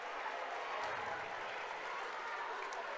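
Parents in the stands at a Walton versus Etowah boys' high school basketball game cheer and clap, a steady wash of crowd applause and noise held at even level from start to finish.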